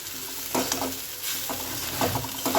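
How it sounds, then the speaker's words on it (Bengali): Soaked flattened rice being stirred into fried vegetables in a pan: scraping spoon strokes in irregular bursts over a low sizzle, close and fairly loud. "এবারে ধুয়ে রাখা চিড়েটা আমি এতে দিয়ে দেবো"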